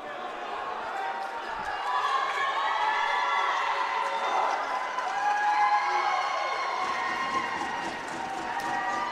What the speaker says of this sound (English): Crowd getting loud now as the teams come back out onto the ice